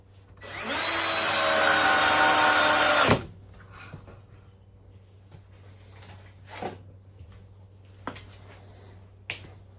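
A power tool drives a screw to mount a bracket for a Merlin 50-foot air hose reel: one loud, close whirring burst of about two and a half seconds, then quiet handling clicks and taps.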